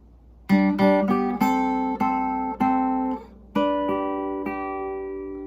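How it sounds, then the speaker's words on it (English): Plucked slack key guitar notes ringing out, the first and third strings pinched together in pairs in a slow, steady sequence, with no talking. "you can pinch, for example, the first string and the third string at the same time"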